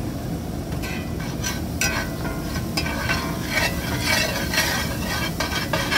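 Flour being stirred into hot oil in a pan to make a roux for gravy, a steady close scraping and stirring over a continuous sizzle, with no talking.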